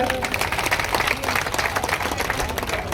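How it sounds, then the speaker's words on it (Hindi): Loud applause from a crowd, dense continuous clapping filling the whole stretch with a few voices mixed in. "बस जोरदार ताली मोनू खातर"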